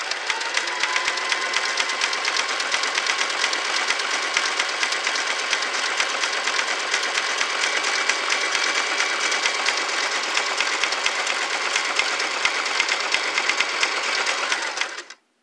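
A Singer Simple 3337 sewing machine runs steadily, stitching a zigzag for about fifteen seconds. The whirring motor and rapid needle chatter are close and loud, with no pauses, then stop abruptly at the end.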